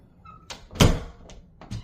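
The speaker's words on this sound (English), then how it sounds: "here's a normal door closing" An ordinary indoor door closing with a solid thunk, a single near impact preceded by light handling noises and followed by a softer click or bump.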